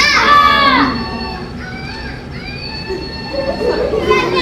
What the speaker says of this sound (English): The flying, screaming monkey.